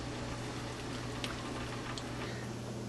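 Chicken pieces shallow fry in a pan with a steady, soft crackling sizzle and occasional small pops, continuous and close against a low background hum.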